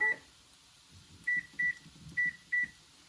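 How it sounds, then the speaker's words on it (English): A kitchen timer beeps four times in two pairs, clear short high tones over faint kitchen background noise while a potato galette with smoked salmon cooks in butter. "Set the timer"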